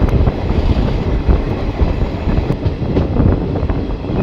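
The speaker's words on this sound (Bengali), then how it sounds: "জঙ্গলের আঁকাবাঁকা রেলপথ ধরে ট্রেন ধীরে ধীরে এগিয়ে চলেছে।" The Siliguri–Bamanhat InterCity Express rolls slowly along a winding track through dense Dooars forest, its loud, continuous rumble and rattling wheel clatter filling the sound close up, with no talk.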